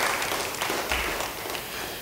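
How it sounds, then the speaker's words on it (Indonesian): A church congregation applauds during a sermon, a steady wash of clapping at moderate distance that stays fairly even throughout, with no voices standing out. "Yang percaya beri tepuk tangan bagi dia."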